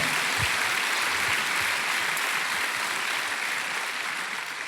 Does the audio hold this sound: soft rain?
no